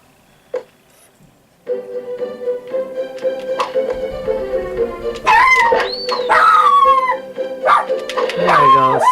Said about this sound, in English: Oh man, the dog is awakened.